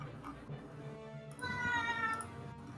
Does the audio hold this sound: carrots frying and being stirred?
no